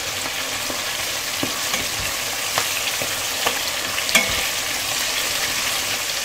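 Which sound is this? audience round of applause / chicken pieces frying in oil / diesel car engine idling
chicken pieces frying in oil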